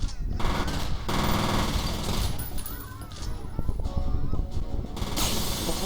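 Rapid automatic gunfire and shots from the first-person shooter game F.E.A.R., loud bursts with breaking glass, running nearly continuously through the clip while players talk excitedly over the fighting.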